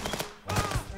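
Gunfire in a police video game, a quick run of sharp shots followed by a heavier blast, loud and close with no speech.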